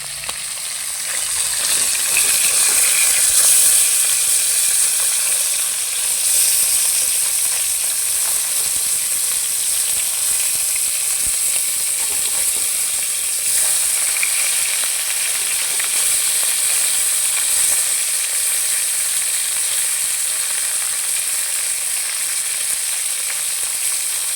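Pieces of chital fish shallow-frying in hot oil give off a continuous bright sizzle and hiss, steady and close, with faint stirring sounds and no talk.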